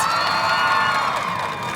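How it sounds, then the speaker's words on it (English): An audience at a live VidCon table-talk event cheers and shouts loudly for nearly two seconds, a dense crowd roar with whoops and no applause pattern clearly separable. "Please applaud if you remember MySpace."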